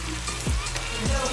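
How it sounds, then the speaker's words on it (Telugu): Ginger paste stirred into frying onions in a pan gives a brief, close sizzle with two quick scraping strokes of a utensil through the mixture; no voices. "సో ఇప్పుడు కలపాలి. అల్లం పేస్ట్ వేసినాం కదా."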